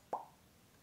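A voice imitates a champagne bottle popping open: one short, sharp mouth pop that quickly dies away into quiet.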